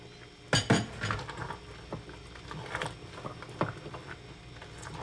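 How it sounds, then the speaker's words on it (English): A spoon stirs okra soup with smoked fish in a pot, giving soft scraping and clinking of utensil against metal at an irregular pace, with quiet bubbling underneath; no speech. "You have to be careful how you stir it so that you don't break your fish."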